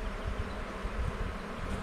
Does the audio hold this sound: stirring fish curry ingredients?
no